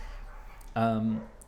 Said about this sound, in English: Sorry if you can hear dogs fighting in the background.